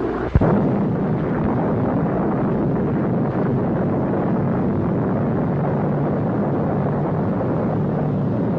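Atomic bomb blast at the 1946 Bikini test, an old newsreel recording: a sharp onset followed by a sustained, loud, wind-like roar rumbling steadily without pause.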